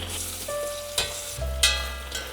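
Mushrooms fry in olive oil in a saucepan with a steady close sizzle, broken by a few louder scrapes and stirring clatters.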